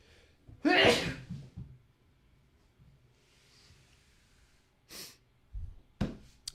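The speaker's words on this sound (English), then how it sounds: "I'm going to sneeze." One sharp, loud sneeze bursts out early, followed by quiet stretches and a few shorter breathy snorts and noises.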